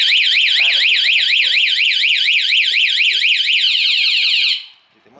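A Honda Click 125 motorcycle anti-theft alarm wails loudly in rapid rising-and-falling electronic sweeps for several seconds, then cuts off abruptly.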